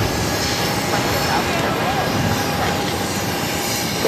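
A JetBlue airliner roars down runway 22 right at Boston on its takeoff roll, a loud, continuous broadband engine rumble holding steady throughout with a faint tonal whine on top.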